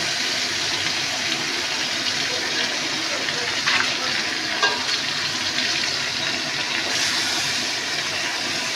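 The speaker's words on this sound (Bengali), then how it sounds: "এবার এটা পুরো একদম ভাজা হবে" Sliced ridge gourd seasoned with salt and turmeric fries in a pan, giving a continuous moderate sizzle and hiss with a couple of brief louder crackles and no talking over it.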